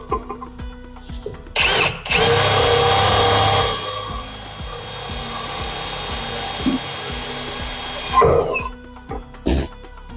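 A power drill bores into a Nissan 350Z to add a stud. It runs as a steady, loud whine for several seconds after short bursts and pauses, with scattered tool knocks around it.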